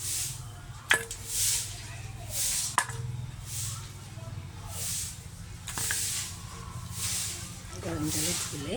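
Hot water pours and splashes over raw chicken being washed in a kitchen, coming as a steady series of hissing, spraying bursts at a fairly regular rhythm, with two sharp knocks and a low hum underneath.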